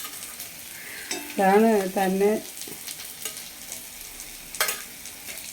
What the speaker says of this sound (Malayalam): ഉള്ളി ഒന്ന് വഴന്ന് വരണേ, എന്നിട്ടേ ക്യാരറ്റ് ഇടാവൂ